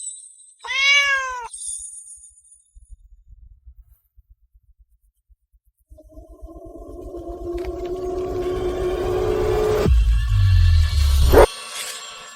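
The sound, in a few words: kitten meowing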